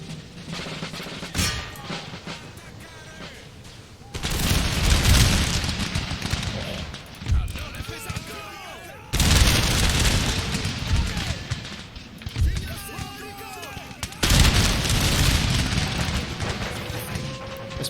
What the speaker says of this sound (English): Let's move them back here just so we don't get hit by the canister shot